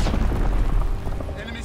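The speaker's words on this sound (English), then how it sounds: "Enemy mortar fire incoming." Mortar shells burst in a Call of Duty: WWII battle, a loud continuous rumble of booming explosions that fades slightly near the end.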